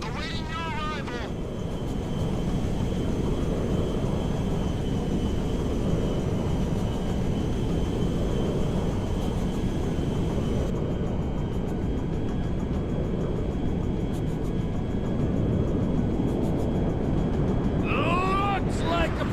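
Military jet in flight in Grand Theft Auto 5, a loud continuous engine roar that holds steady throughout, with brief chirps at the start and end.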